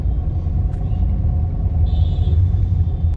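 Traffic jam on Aurobindo Marg in Delhi: a dense, steady low rumble of idling and creeping vehicles close by, with a brief hiss of air brakes partway through.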